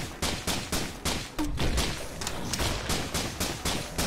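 Gunfire from the video game Risk of Rain rings out as a steady, rapid string of sharp shots, about three per second, loud and close with no pauses across the stretch.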